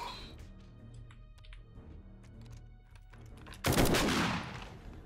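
Gunfire in a zombie video game, with aimed shots as a series of sharp single cracks followed by a loud sustained burst of noise near the end.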